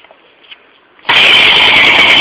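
Husqvarna 268 chainsaw engine catching after quiet background sounds, then roaring steadily and loudly at close range.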